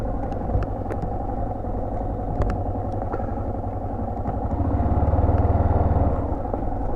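A Buell or Yamaha 600 XT motorcycle rides along country roads in northern France, its engine rumbling steadily up close with scattered clatter, then swelling louder and throatier toward the end.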